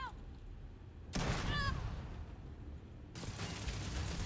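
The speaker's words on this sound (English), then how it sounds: "Let me throw a grenade in there." Grenade blast in the video game Starfield, thrown into a ship compartment: a sudden loud broadband burst followed by a rumbling decay, then a second heavy surge of noise near the end.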